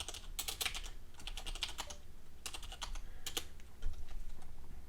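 Typing on a computer keyboard, quick bursts of light key clicks with short pauses, close and fairly quiet.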